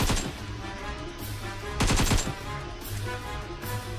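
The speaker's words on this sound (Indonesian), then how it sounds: "Oh, ada yang tembak-tembak anda." Rapid gunfire in the battle royale shooter PUBG Mobile. Bursts of automatic shots come in clustered volleys over a steady low background hum, with the loudest burst near the middle, and no talk over them.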